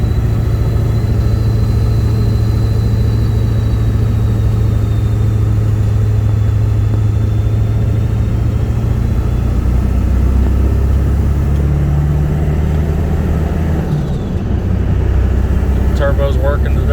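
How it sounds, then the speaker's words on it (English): A 7.3 Powerstroke diesel truck with a ZF6 transmission pulls a heavy 24-foot tandem axle box trailer through rural Ohio, its engine droning steadily and loudly throughout, with a deep low hum shifting pitch midway as the turbo works hard. "turbo's working today. Like, really working."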